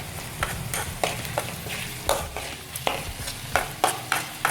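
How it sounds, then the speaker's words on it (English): A Khmer dish of cucumber and weaver ants with sugar and seasoning sizzles in a pan while a utensil stirs it in sharp, irregular scrapes and knocks, close up with no speech. "now we stir it well"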